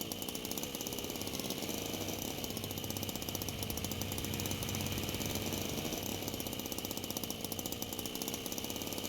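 The worn old car engine in the video game Jalopy, an engine that has taken damage, runs as a continuous rapid mechanical clatter with a steady droning hum, even and unbroken, with no talking.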